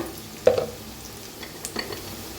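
Onion and turmeric fry in a pan with a soft, low sizzle, broken by a few light clinks and scrapes as the mix is stirred.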